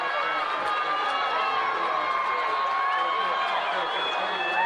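Dense, steady crowd roar fills the stands at a high school football game between Vacaville and Cardinal Newman, loud and continuous throughout with voices blended into the noise.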